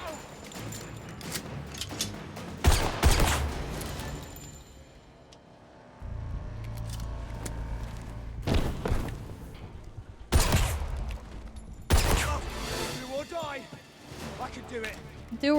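Gunshots in a video game: several loud, separate blasts spaced a few seconds apart, with quieter stretches and rumbling in between and a voice talking over parts of it.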